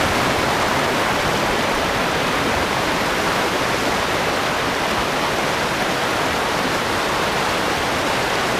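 A waterfall rushes in a steady, dense roar, loud and unbroken throughout, at Canding Falls in San Clemente, Tarlac.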